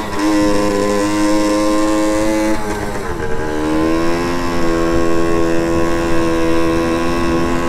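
A motorcycle ridden on an open road after its carburetor was cleaned, engine droning loudly and close with steady harmonic tone, easing briefly then climbing again as revs rise, wind noise mixed in.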